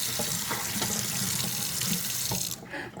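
Cold water runs from a kitchen tap through a filter to rinse something while ginger snaps are being made, a steady loud hiss and splash that drops off abruptly near the end, with no talk.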